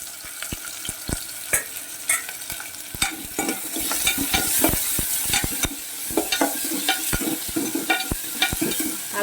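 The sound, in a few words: ginger pieces frying in hot oil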